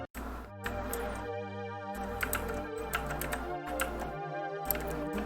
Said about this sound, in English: Sucks that I gotta play on a loud-ass keyboard